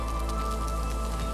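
Rain in the survival game Valheim, a steady, even patter of drops on surfaces alongside a constant low hum, continuous and moderately loud with no talking.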